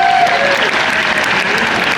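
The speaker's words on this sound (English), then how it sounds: "round of applause" Eyewear and eye care event audience gives a loud, dense round of applause that holds steady for a couple of seconds.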